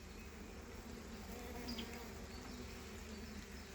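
Bees buzz in a dense, steady drone inside an open beehive, close and continuous with a few individual insects passing near.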